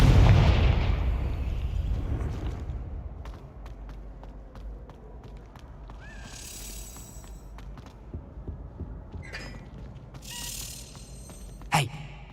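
A blasting spell goes off in a Harry Potter video game: a loud booming burst at the start, with rumble fading over a couple of seconds, then quieter game ambience with scattered clicks and a sharp crack near the end.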